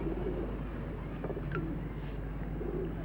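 Pigeons coo softly outside a pub, a few low murmuring calls over a steady background hum, fairly faint and without talk.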